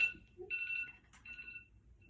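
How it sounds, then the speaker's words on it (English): A faint electronic phone ringtone plays two short tonal bursts with a brief pause between, soft and somewhat distant over low background noise. "That was a ringtone."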